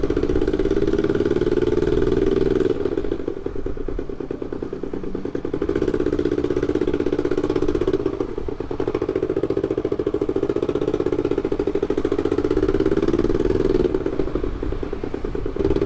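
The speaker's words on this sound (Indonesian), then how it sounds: "Suaranya kayak gini. Pecah kompresinya tuh." Kawasaki Ninja 650 (ER6f) engine running with broken compression, effectively on one cylinder, giving a loud, continuous rough drone with steady clattering pulses and slight swells throughout, with no talk.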